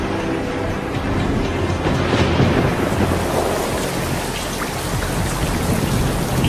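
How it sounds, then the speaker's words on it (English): Heavy rain, standing in for methane rain on Titan, pours in a dense, continuous hiss of drops on surfaces, with a low rumble swelling and fading underneath like distant thunder. "when condensation occurs on this planet, it rains methane"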